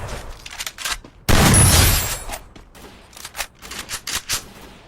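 Burst of video game gunfire in a battle royale match: a loud, dense volley of rapid shots lasting under a second, then scattered single cracks and short bursts spread through the rest of the moment.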